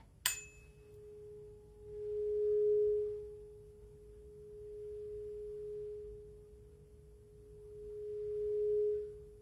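417 Hz solfeggio tuning fork struck once with a sharp tap, then ringing as a pure, steady tone that swells and fades gently over several seconds, close and fairly quiet.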